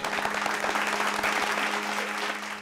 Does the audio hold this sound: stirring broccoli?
no